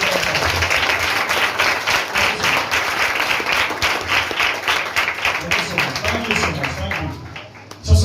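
An Urdu-speaking church congregation claps loudly together in a fast, rhythmic beat with crisp individual claps. The clapping is close and strong and breaks off near the end.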